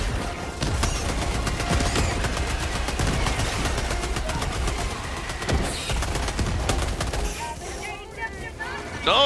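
A turret in Helldivers 2 fires in rapid, nearly continuous bursts, loud and close, with a brief pause near the end and people talking underneath.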